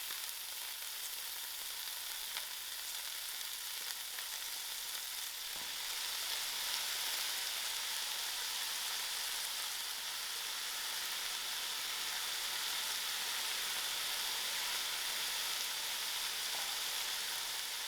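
Onions and herbs fry in a pan for a watercress and dubla bean dish, a steady close sizzle and hiss that swells slightly partway through, with no voices.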